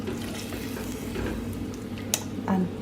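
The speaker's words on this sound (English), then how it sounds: "Half cup of water, and then we're going to stir it" Curry potatoes get stirred in a pot after half a cup of water goes in, a soft watery swishing and light sizzle with a couple of sharp clinks near the end, moderately quiet.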